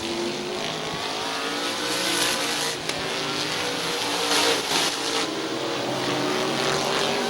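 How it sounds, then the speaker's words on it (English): Race cars roar around the Midvale Speedway track in a sustained, loud engine drone with rising and falling passes, the crowd of cars blending into a continuous wash of noise. "the rookie John Evans in car number 38"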